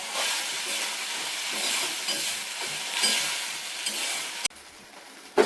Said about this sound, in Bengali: তো আগে ভালো করে মশলাটা কষাবো, তারপরে হচ্ছে গিয়ে আলুটা দেবো